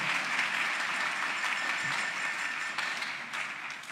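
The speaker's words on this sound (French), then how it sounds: "On peut acclamer le Seigneur pour cela." A church congregation at a Sunday Methodist service breaks into steady, dense applause praising the Lord, filling the room evenly from start to finish with no voices on top.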